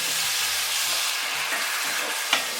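White wine poured into a hot pan of spicy garlic shrimp pasta over high heat sizzles loudly and steadily, a bright hissing fry with faint stirring scrapes underneath and a brief louder burst near the end.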